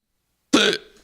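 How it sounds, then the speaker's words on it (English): A single sharp hiccup pops out of silence, loud and near, with a brief voiced catch trailing off quickly. "It was a hiccup."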